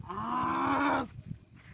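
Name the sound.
buffalo mooing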